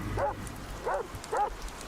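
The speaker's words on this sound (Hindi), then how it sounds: "ओ वेट, नीचे कोई तो डॉग भौंक रहा है।" A dog barks three times at an even pace in a GTA 5 horror mod, the short yips moderately close and fairly quiet, with no talk.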